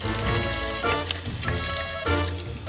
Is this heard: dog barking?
no